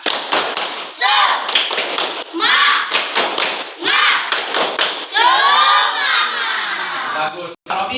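Classroom students do a rhythmic spirit clap, the tepuk semangat, in sharp bursts of loud, close group claps and thuds, with children's voices chanting and shouting between the claps.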